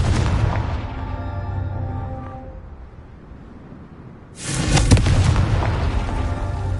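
A Confringo explosion spell in Hogwarts Legacy goes off as a loud, deep boom that rumbles and decays, then a second heavy blast erupts and roars on after a short lull.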